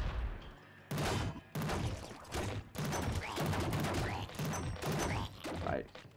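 Rapid bursts of weapon fire from the top-down roguelike shooter Nuclear Throne, loud and dense, coming in repeated volleys with short gaps and thuds between them and no talk over them.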